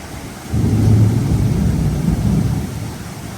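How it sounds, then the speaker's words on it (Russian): A deep rumble of thunder rolls in suddenly and loudly, sustained and booming over a background hiss like rain. "Это что, ураган?"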